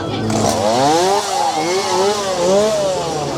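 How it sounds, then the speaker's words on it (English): A chainsaw engine, run by a scare actor at a Halloween theme park event, runs loud and close, its buzzing pitch rising and falling as the throttle revs up and eases off. "Oh, a chainsaw man."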